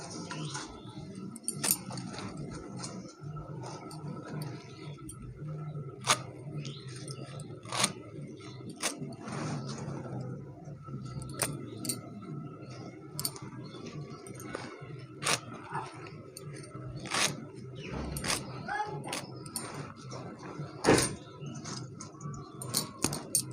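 Jute leaves being cut for frying: sharp, irregular knife clicks and taps on a board repeat throughout over a low background hum, close to the listener.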